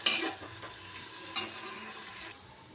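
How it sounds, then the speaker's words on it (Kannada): A spoon stirs garlic and turmeric frying in a pan for a vegetable sambar, a steady close sizzle with scraping strokes, loudest at the start and again midway, with no voice. "ಚೆನ್ನಾಗಿ ಮಿಕ್ಸ್ ಮಾಡ್ಕೊಳ್ಳೋಣ"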